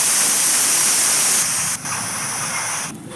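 A pressure cooker cooking lentils lets out a loud, continuous hissing whistle of escaping steam that holds steady, then drops slightly in intensity twice as the release changes.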